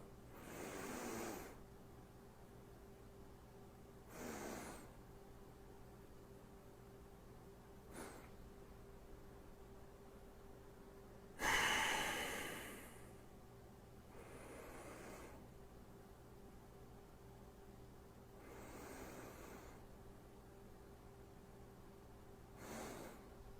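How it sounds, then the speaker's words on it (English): A slow box breathing exercise done for Kundalini yoga meditation: a few long, airy inhales and exhales spaced several seconds apart, one louder rushing breath near the middle, with quiet held pauses between them. "inhale all the way as much as you can and hold for that same amount of time, and you exhale"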